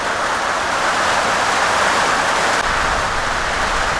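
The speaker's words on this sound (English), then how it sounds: "I had to pause it there because there was so much rain" Heavy rain pours down steadily outdoors in a dense, loud, continuous hiss that stays unbroken throughout with no voices.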